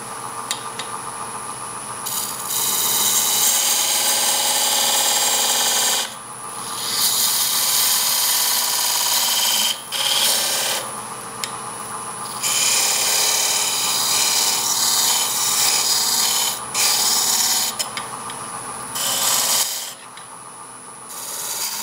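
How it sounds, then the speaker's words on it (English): Parting tool cutting into a turned wooden piece on a wood lathe, a loud continuous scraping whir in long stretches broken by short pauses, close up with no speech. "I'm going to just define this a little bit better with a parting tool."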